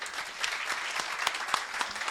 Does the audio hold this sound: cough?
no